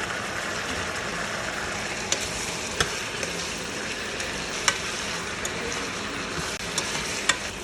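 Cashews and onions fry in a pan for butter chicken, a steady close sizzle with occasional sharp clicks and taps from stirring scattered through it.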